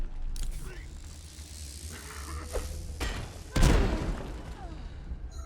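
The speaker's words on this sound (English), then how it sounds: "Well, we're just gonna have to grenade him then." Grenade blast in the stealth game Dishonored: one sharp, loud thump with a rumbling tail near the middle, followed by clanking mechanical rattles and scattered impacts.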